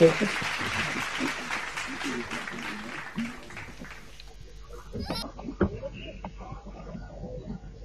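Audience applause at a festival celebration gathering, a burst of clapping that is loudest at the start and then thins out into scattered claps with some background voices.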